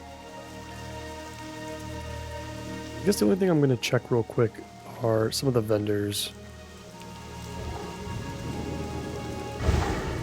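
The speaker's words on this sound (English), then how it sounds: "Quite a bit of rain here today." Steady rain pattering with low thunder rumbling in World of Warcraft Classic, running continuously beneath someone speaking in the middle.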